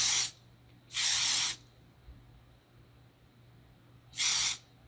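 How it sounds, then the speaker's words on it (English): Hairspray released as a light mist in three short aerosol bursts, the first and last brief and the middle one about half a second long, each a bright close hiss with silence between. "you don't want this to get wet with the hairspray. So you want it to be a very light mist."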